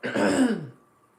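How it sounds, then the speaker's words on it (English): A single short throat-clearing cough after choking on pizza, close and loud, rasping for about half a second and then fading out. "I'm coughing because I choked on some pizza"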